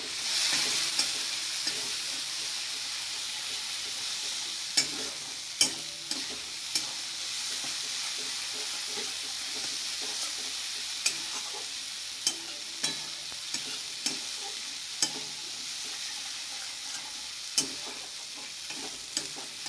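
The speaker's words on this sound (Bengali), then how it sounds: "যেই মশলাটা একটু ভাজা ভাজা হয়ে যাবে," Chilli-cumin paste with red chilli powder fries in a pan, giving a soft, continuous sizzle with sharp taps now and then as a spatula stirs and scrapes, quiet and with no voices.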